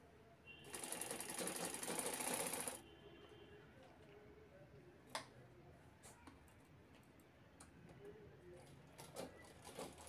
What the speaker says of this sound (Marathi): दोन्ही कोपऱ्यांना शिलाई करून झालेली आहे